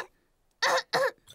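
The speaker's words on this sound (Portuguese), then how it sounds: "a tosse do Pedro é contagiosa" A cartoon piglet coughs twice in quick succession, short harsh bursts after a brief quiet pause, with a faint third sound trailing at the end; no speech.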